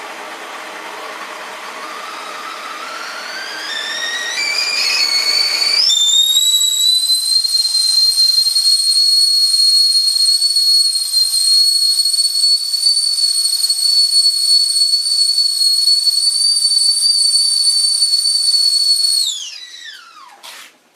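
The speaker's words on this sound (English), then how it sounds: "That was a whistling kettle." A kettle's whistle rises in pitch as it builds, then holds a loud, piercing, steady shriek for a long stretch before abruptly cutting off.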